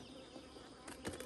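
Honey bees buzz around strong hive colonies, a faint steady drone from many insects with a few slightly louder passes near the end.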